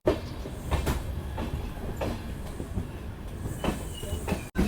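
Murdeshwar–Hyderabad Express rumbling along the rails, heard from inside a coach: a steady loud roar with repeated clattering wheel knocks and a brief dropout near the end.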